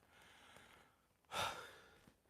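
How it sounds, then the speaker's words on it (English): A man breathes hard after cutting limb wood for firewood. Quiet, close breaths are heard, with one louder exhale that sounds like a sigh or gasp midway through. "You hear me breathing hard"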